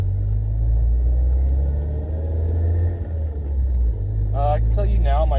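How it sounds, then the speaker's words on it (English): Interior cabin drone of an NC Mazda Miata with a race muffler while driving, a steady low exhaust rumble and road hum filling the cabin, with someone talking over it near the end. "compare interior cabin noise from this race muffler versus the street muffler"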